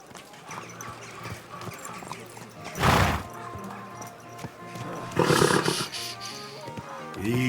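Horse hooves clip-clop and a horse neighs in the medieval game Kingdom Come 2, with two loud whinnies standing out over steady hoofbeats and ambient game sound.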